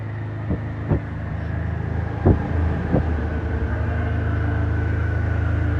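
A loud small sports car engine drones steadily nearby, a low rumble that holds throughout, with a few sharp knocks or pops in the first half.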